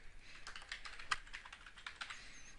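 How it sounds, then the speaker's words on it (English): Quick, steady clicking of keys being typed on a computer keyboard, close and fairly quiet, with an irregular rhythm and one sharper keystroke in the middle. "so we've typed that in"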